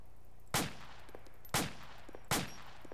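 An M16A4 rifle fires in the video game ARMA 2, with three separate single shots at uneven intervals. Each shot is a sharp crack with a short tail over quiet room tone.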